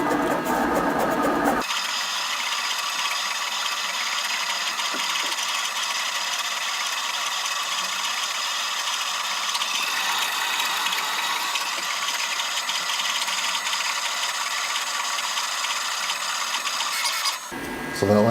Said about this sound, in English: So now I'm going to hit send, and the machine's going to turn on.